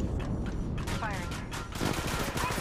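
Rapid bursts of automatic gunfire crackle loudly in the mobile shooter Apex Legends Mobile, volleys overlapping in dense succession, with a voice speaking underneath.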